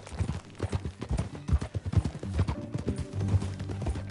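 Horse hooves clip-clop at a walking pace in Red Dead Redemption 2, with a steady rhythm of close, distinct hoof strikes and low background sound underneath.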